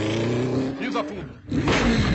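A car's engine roars and revs hard during a chase, with a brief dip before it surges again. The engine stays loud and close throughout, and muffled voices can be heard under it.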